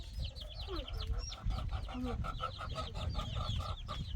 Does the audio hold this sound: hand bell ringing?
no